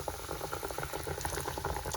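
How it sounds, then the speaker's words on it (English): Steady, dense crackling and bubbling of a breaded pork chop frying in hot oil, continuous and fairly close, with no voices. "That's a nice little sizzle right there."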